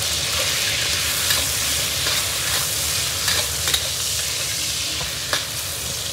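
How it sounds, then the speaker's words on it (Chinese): Meat sizzles and crackles in a hot wok as it is stir-fried, with a steady frying hiss and occasional scraping clicks of a spatula, close up and with no talking. "继续给它炒香。"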